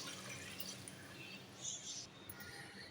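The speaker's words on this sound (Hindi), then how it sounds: "ये हमने इसके अंदर 4 कप पानी शामिल कर दिया है।" Four cups of water poured into a cooking pot of beef achar gosht that has been browned in yogurt, giving a steady, soft splashing and trickling wash that runs through the whole stretch.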